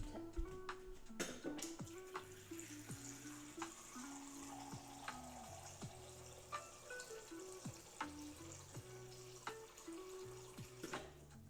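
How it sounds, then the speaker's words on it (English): Water runs from a kitchen tap on a patio, a quiet, steady splashing stream with scattered clinks and knocks of handling throughout. "Okay, so we'll get some water."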